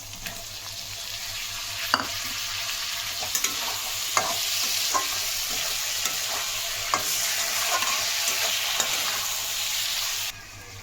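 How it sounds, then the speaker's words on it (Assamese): Oil sizzles steadily in a pan as mushrooms fry while a spatula scrapes and taps at irregular intervals, close and clear. No one is talking. "এইখিনিও মই ভাজি লৈছোঁ অলপ সময়লৈকে, কেঁচা গোন্ধ যোৱালৈকে ভাজি ল'লোঁ"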